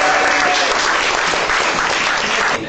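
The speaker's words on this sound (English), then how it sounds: "Give them a round of applause." An audience bursts into dense, continuous applause, loud and close, filling the brief moment evenly before tapering slightly at the very end.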